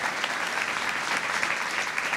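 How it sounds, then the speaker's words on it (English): A room full of people applauding a state senate candidate forum panel, dense steady clapping at moderate loudness with no voices over it. "Round of applause for our questions tonight from our panelists."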